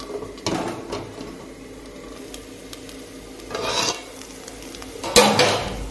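A metal lid scrapes and clanks as it is lifted off a cooking pot of rava kichadi, close up, with a brief rub at first and a sharper metallic scrape near the end.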